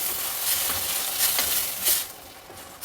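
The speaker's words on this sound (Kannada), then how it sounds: "ಇದನ್ನು ಸ್ವಲ್ಪ ಚೆನ್ನಾಗಿ ಫ್ರೈ ಮಾಡಬೇಕು" Tomato puree and vermicelli frying in a pan, with a steady soft sizzle and scraping stir strokes near and moderately loud, brief stronger bursts as the mixture is turned, no voices.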